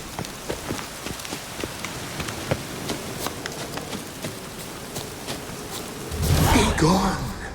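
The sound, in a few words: rain in video game The Witcher 3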